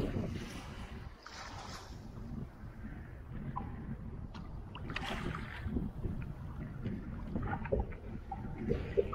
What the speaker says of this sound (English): it's too windy now.